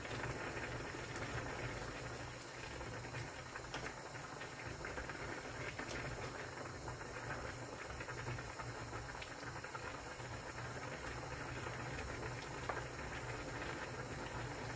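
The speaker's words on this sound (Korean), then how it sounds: "끓는 소리도 좋죠." A steady, soft bubbling and hissing of Korean pollock roe soup boiling in a pot, continuous and unchanging, heard alone without voices.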